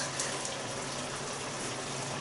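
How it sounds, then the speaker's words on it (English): Soy sauce poured into a pan of ginger mushrooms, a steady broadband liquid gush and sizzle holding evenly and fairly loud throughout. "now I'm going to put some soy sauce in"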